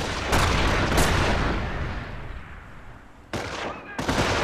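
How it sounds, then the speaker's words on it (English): Gunfire and heavy weapon blasts from the World War II strategy game Company of Heroes, fighting around Carentan in Normandy, come in loud bursts at the start and again near the end, with a dense rumble of battle noise between them. "We are under fire!"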